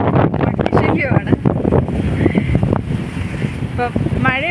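Strong wind buffets the microphone on a rainy Goa beach, a loud, continuous roar with gusting rumble and surf underneath, while a voice talks briefly and bird-like chirps appear near the end.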